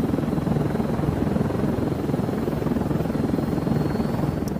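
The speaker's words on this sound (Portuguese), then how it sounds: "Helicóptero." Helicopter in the video game Zero Hour Assault, a steady loud rotor thrum with dense broadband noise held continuously throughout, no talk over it.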